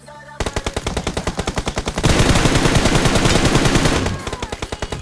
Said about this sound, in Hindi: एक नंबर गंदी गन चल रही है